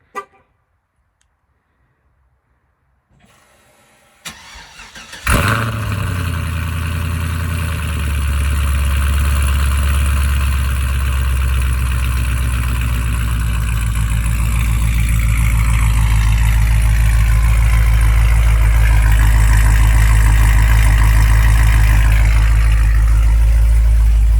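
A 2009 Cadillac CTS-V V8 with Texas Speed headers and Borla mufflers cold starts on a 45-degree day: quiet clicks and cranking, then the engine catches with a loud bark and settles into a steady, loud, deep idle.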